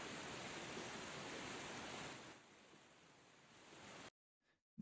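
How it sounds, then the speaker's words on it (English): A waterfall sound effect in a Premiere Pro edit gives a dense, loud rushing wash that eases to a softer level halfway through, then cuts off abruptly near the end. "Once I actually cut to the shot of the waterfall, we have a more heavy sound effects coming into place"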